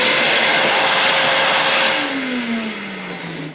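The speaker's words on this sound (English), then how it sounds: "Okay, let's get the hoover back on that." A vacuum cleaner running hard at the fuel filler of an Audi TT Mk1, a loud close whooshing roar that shifts in pitch as the nozzle moves, then winds down at the end.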